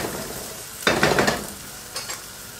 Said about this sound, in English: So now I'm going to start adding my meat.